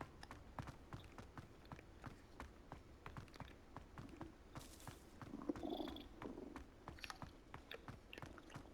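Cat purring in Hogwarts Legacy, a soft low rumbling purr pulsing steadily close by, quiet, with faint scattered game sounds.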